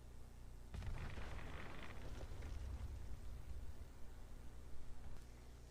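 A grenade detonates in a Fallout game while farming crops, a loud sudden burst followed by several seconds of dense rumbling roar and debris noise that gradually settles.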